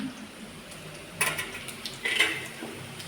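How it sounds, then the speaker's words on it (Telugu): Carrots frying in a pan for carrot fried rice, with soft sizzling under clinks and scrapes of a utensil stirring against the pan, a couple of louder clatters partway through. "మన క్యారెట్ అయితే మంచిగా ఫ్రై అయిపోతూ ఉంది"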